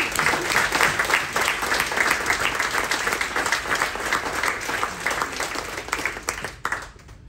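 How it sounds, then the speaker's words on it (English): Big round of applause from an audience at a military appreciation event aboard a Carnival cruise ship, honoring the crew upstairs; dense, steady clapping fills the whole stretch at close range before tapering off at the very end. "Can we give a big round of applause to them upstairs?"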